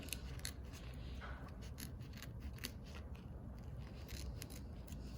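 Small scissors snip embroidery vinyl repeatedly and faintly at close range, a series of light crisp cuts over a quiet background.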